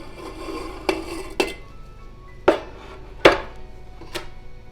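A pot layered with peaches and sugar for almond peach jam is gently shaken, giving a few separate metallic knocks and clinks with quiet rustling between them, close by and without talk.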